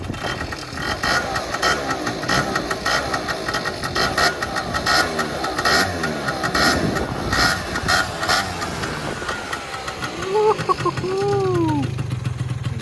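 Two-stroke Yamaha Zuma scooter on a ride around the block, engine droning steadily with fluctuating throttle and road noise, then a couple of brief rising whines near the end.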